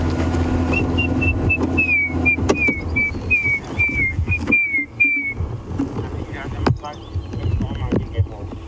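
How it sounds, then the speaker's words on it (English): Repeated clear, slightly descending whistled notes from grey hornbills in a steady series, over low rumbling background noise and wind. "all of these grey hornbills that we can hear whistling"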